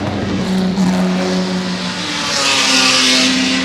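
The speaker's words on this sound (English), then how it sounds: "Beautiful noise of these Jaguar engines, quite distinctive." Jaguar E-type race cars at the Goodwood Revival race meeting pass with loud, sustained engine roar, the pitch shifting as they go by and more engine noise building toward the end.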